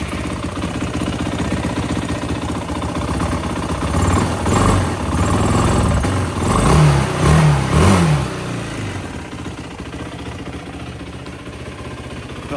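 Engine of a 2007 Yamaha YFZ 450 ATV idling with the choke off, a steady low running note with a few brief swells as the idle hangs, close and fairly loud with no talk.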